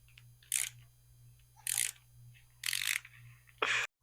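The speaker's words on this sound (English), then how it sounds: "I'm going to use a ratchet wrench to make it go quicker." Ratchet wrench loosening clamp bolts on the forks of a Surron Light Bee X electric dirt bike: four short, close bursts of rapid ratcheting clicks spaced about a second apart over a low steady hum.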